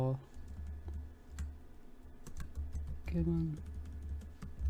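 Keys clatter on a computer keyboard in quick, irregular bursts of close clicks while code is typed, with a voice speaking over part of it.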